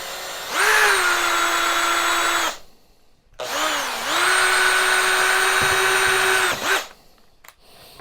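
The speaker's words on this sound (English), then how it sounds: "get it in my sharpener, and just sharpen, and then just sharpen my stick" A wooden stick is ground in a power sharpener for bushcraft stove shavings, two sustained whining motor runs with a short pause between, the pitch dipping as the wood bites, loud and close.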